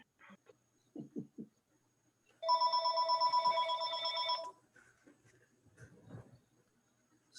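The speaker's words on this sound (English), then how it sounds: "Just then the phone rang." A telephone rings during a trustees' board meeting, giving a steady two-second burst of bright electronic trilling, with faint muffled background sounds before and after.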